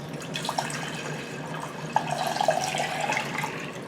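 Water pours steadily into a pot for elderberry syrup, a continuous close splashing rush with small gurgles and a few brighter splashes.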